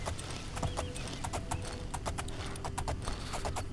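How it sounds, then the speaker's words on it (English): Horse hooves clip-clopping in a steady galloping rhythm as a Skingrad horse is ridden in the video game Oblivion, loud and close over a low ambient bed, with a faint whinny mixed in. "I'm riding a Skingrad horse, which is tougher than a chestnut"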